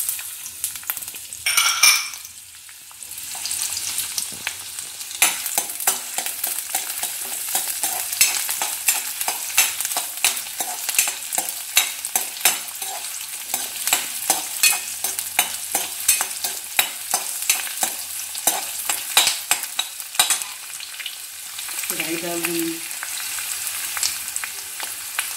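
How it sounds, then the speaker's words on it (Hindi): Onions frying in a spoonful of hot oil in a kadhai while making thakkali sambhar, a bright continuous sizzle with frequent spatula clinks and scrapes, close up and fairly loud, no voices. "तेल गर्म हो जाने पे"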